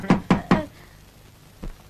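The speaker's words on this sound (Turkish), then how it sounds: "Kapı vuruldu değil mi?" Three quick, sharp knocks on a door close by, evenly spaced, followed after a pause by a single softer knock, in an indoor scene from a Turkish comedy film.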